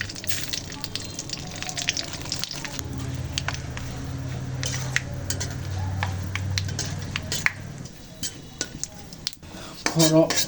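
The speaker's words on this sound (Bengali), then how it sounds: "এই আমরা খাঁটি সরিষার তেল দিয়ে দিচ্ছি ফোড়ন দিয়ে দিচ্ছি শুকনা ঝাল তেজপাতা" Whole spices, dried red chilies and bay leaves are tempered in pure mustard oil, with a pan and utensils clinking and scraping close by as the mixture is stirred and gently sizzles; a voice talks at times.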